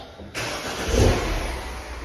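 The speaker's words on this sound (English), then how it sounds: "And if we start it up" A BMW Mini engine cranks and catches after a VANOS solenoid replacement, then settles into a loud, steady idle close by.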